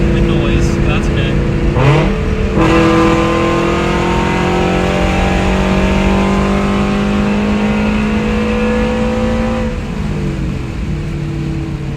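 A Scion FR-S fitted with a Corsa catback exhaust, still running its muffler and resonator, revs up while driving, engine tone climbing steadily and loud for several seconds before easing off, heard from inside with windows down.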